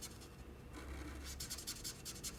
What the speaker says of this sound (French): on utilise la couleur Gérarium des Touch 5 pour colorier notre petit parapluie